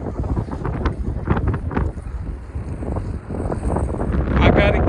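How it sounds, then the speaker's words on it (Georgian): Strong gusts buffet the microphone outdoors near Dijon, France, producing loud, continuous rumbling wind noise that swells and eases throughout, with no clear speech. "Magari ქარია."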